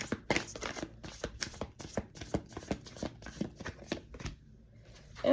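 Tarot cards are shuffled in quick, crisp riffling bursts, a dense close run of papery slaps and flutters that thins out toward the end, with no talk over it.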